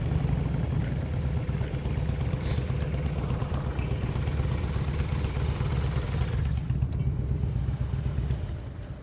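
A motorcycle engine idles and putters steadily through a slow-speed riding exercise on a practice course, a low continuous rumble at moderate distance with no voices over it.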